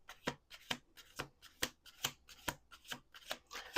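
A deck of playing cards is shuffled: a rapid, even series of about a dozen crisp riffling snaps and taps, close and clear, with no talking.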